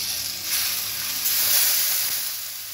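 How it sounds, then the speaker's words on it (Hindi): Boiled whole wheat roti pasta sautéing with spices in a hot pan, a steady bright sizzle and hiss that swells slightly and then eases, close and continuous with no talking. "और इसको 1 से 2 मिनट के लिए अच्छे से सौते कर लूँगी"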